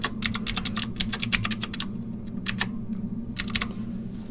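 Fingers typing a folder name on a computer keyboard, a rapid burst of crisp close key clicks, a short pause, then a few more scattered keystrokes.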